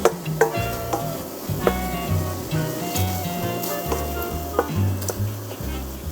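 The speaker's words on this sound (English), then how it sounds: "going to saute some fresh mushrooms for your soup" Fresh mushrooms sautéing in oil in a pan, a soft continuous sizzle broken by repeated clacks and scrapes of a utensil pushing them around, close and fairly quiet.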